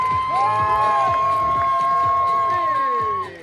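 Excited spectators at an Epcot show cheer with high whoops and shouts that rise and fall in pitch. The crowd noise stays loud and continuous, then drops off right at the end.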